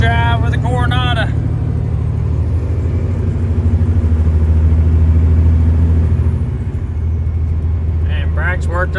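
A Mack Coronado truck engine runs with a deep, steady diesel drone inside the cab during a test drive, loud and continuous, rising slightly in the middle, with someone speaking briefly at the start and end.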